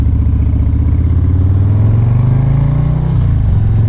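A 2024 Harley-Davidson Low Rider ST with its fairing cruises on the highway; the engine drones loud and constant, with a low rumble whose pitch rises steadily and then dips near the end, with no speech.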